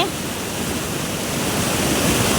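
Meltwater from thawing snow pours down like a small waterfall outdoors, a constant, loud, close rush of water with no voices.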